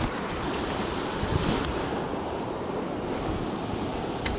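A small waterfall on the Salmon River produces a steady, close, broadband rushing of falling water, unbroken and without speech.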